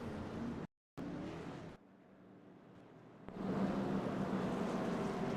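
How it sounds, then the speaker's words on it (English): Stock race cars from a sim racing video game roar past in a steady engine drone, dropping briefly to silence and a quieter stretch before the engine noise swells louder again near the end; no one speaks. "Martin Bland just gets a little bit loose in that sprunk number 3 car"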